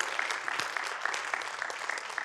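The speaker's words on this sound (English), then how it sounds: "Give it another round of applause for our fabulous players." A large audience at an education conference keynote in Las Vegas claps steadily and densely throughout, a continuous wash of applause filling the hall.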